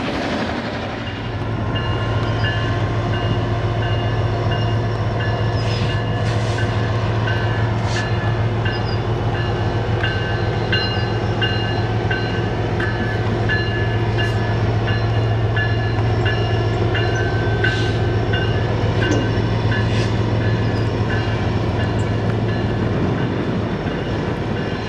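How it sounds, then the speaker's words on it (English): Freight trains meet three ways at a busy Midwest rail spot, with a loud, continuous rumble of rolling cars, wheel noise and brief horn-like tones carrying throughout. "Three-way train meet."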